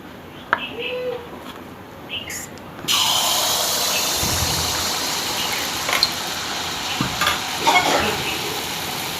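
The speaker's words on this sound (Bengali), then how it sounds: "তেলটা আমার গরম হয়ে গেছে আর এই হাতা এক হাতা করে আমি দিয়ে দেবো" Wheat flour pitha batter ladled into hot oil, quiet scrapes at first, then a sudden loud, steady frying hiss that continues with small pops and bubbling, close by.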